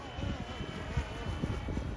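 A FlyWing UH-1 470 six-channel GPS RC helicopter flies fast outdoors, its faint motor whine buried under steady, heavy wind rumble across the microphone.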